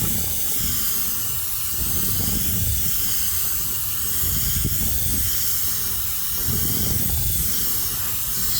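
A Harder & Steenbeck Infinity airbrush, fed at 20 psi through a 0.25 mm needle, sprays paint onto white styrene sheet, giving a steady, close, continuous hiss that swells gently in passes with no voices.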